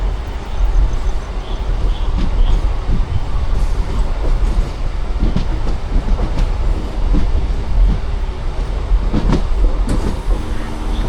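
A MEMU passenger train rolls into Puthukkad station in the early morning, a steady rumble from inside the carriage with rhythmic wheel clicks over rail joints and occasional metallic knocks.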